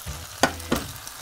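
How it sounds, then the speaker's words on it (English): Cooked rice drops into a pot of shrimp with two soft thumps over a low, steady sizzle, heard close. "So I'm gonna add the rice into the pot of shrimp"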